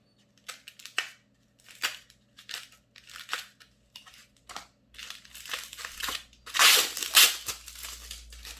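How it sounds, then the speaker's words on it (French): Scissors snip and cut open crinkly plastic packaging on a clothing haul order, a series of short sharp crackling bursts with pauses between, building to louder rustling near the end, close and with no talk. "Maintenant, les ciseaux."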